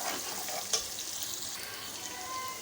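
Small green chillies stirred in a hot pan while cooking okra and prawns, a steady soft sizzle with a brief scrape of the spoon near the start, close and continuous.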